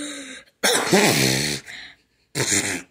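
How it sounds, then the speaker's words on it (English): A few harsh, hoarse coughs close up, separated by short pauses, with one rough, rasping cough drawn out longer than the others. "wow a horsey cough"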